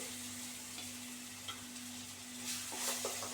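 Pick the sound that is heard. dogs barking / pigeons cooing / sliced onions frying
sliced onions frying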